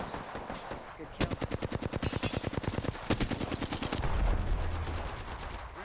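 Rapid bursts of automatic gunfire from the Apex Legends video game, loud and close, come as fast repeated shots in two long strings with short pauses and a few softer tail sounds.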